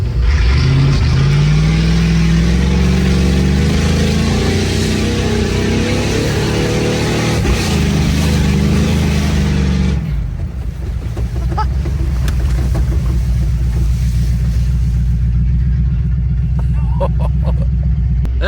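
A 5.0-swapped Ford Ranger and a Dodge Power Wagon racing in a backyard, with loud, close engines roaring and revving hard, the pitch climbing through gears before a sudden drop and a rough idling rumble.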